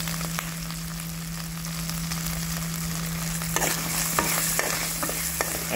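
A spoon stirs a spiced banana flower mixture with turmeric, salt and chopped green chilies in a frying pan, steady sizzling with intermittent scraping taps against the pan and a constant low hum underneath.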